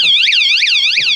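Newly installed anti-theft alarm on a camper van wailing loudly and close, a rising-and-falling siren tone repeating about three times per second with no talk over it.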